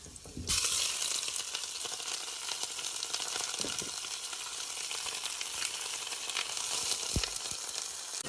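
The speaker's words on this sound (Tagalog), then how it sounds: "Ihuhulog ko na ang aking chicken wings." Chicken wings dropped into a pan of browned garlic and onion: a sudden burst of loud sizzling that settles into steady, bright frying crackle with occasional pops and stirring knocks, no talk.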